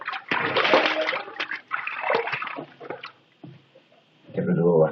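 Water splashes and sloshes in uneven bursts as shaving soap is rinsed off a face at a basin, with quiet pauses between the close, wet rinses.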